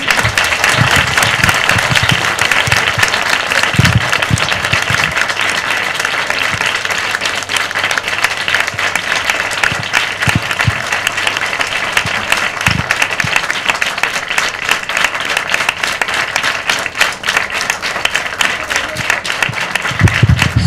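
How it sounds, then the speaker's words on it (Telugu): A school audience at a celebration for a record holder breaks into loud, sustained applause that stays dense and even for about twenty seconds, close and filling the room, with no break in the clapping. "ఇక్కడ క్లాప్స్ గట్టిగా ఉండాలి."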